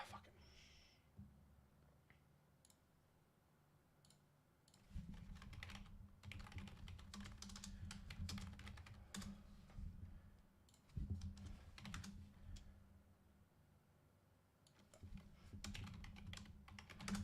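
Typing on a computer keyboard, quiet clicking keystrokes in uneven bursts over a low background rumble that rises and falls.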